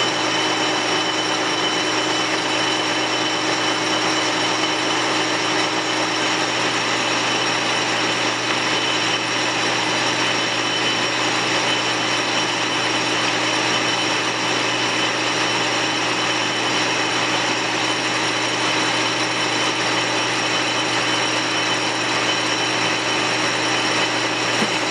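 Machine spindle of a metal-turning setup spinning steadily at 371 RPM, a constant loud mechanical hum and whine held without change throughout, with no voices.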